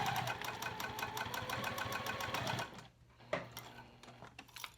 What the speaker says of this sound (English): So I'm just keep sewing across the bottom